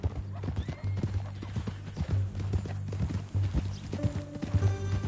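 Horse hooves clip-clop in a steady rhythm close by in Red Dead Redemption 2, with a short whinny near the end, and no talking.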